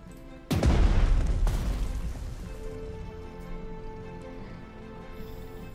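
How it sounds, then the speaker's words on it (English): Artillery fire in the strategy game Strategic Mind: Blitzkrieg during the Battle of Berlin: one loud booming blast, a quick second hit, then a rumbling fade under a quiet background hum. "Seems to be a lot of artillery."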